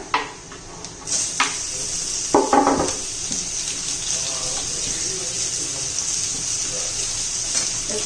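Chopped tomatoes tipped into onions frying in a pan, giving a steady sizzle with a few stirring scrapes and clanks near the start, continuing evenly throughout.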